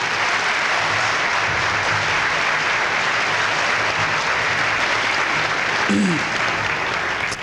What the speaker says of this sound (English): Let's give Mr. French a nice round of applause as he comes up here.